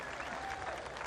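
Applause from a disc golf gallery at the final round of the PDGA Pro Worlds, a steady dense clapping crowd filling the whole moment, fairly distant and even.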